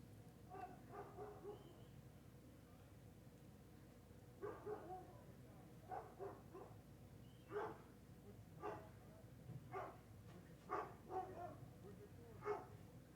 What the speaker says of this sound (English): I don't know if you can hear our neighbor's dog now